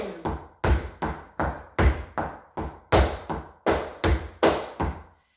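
Sharp flamenco heel strikes on a hard floor in a steady, quick rhythm of eighth notes, about a dozen percussive stamps close by with no talking.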